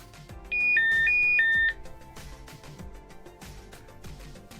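A Retevis RT3S DMR handheld radio starts its man-down alarm with a short burst of high, alternating electronic beeps that stops after about a second. Faint rhythmic background noise continues afterward.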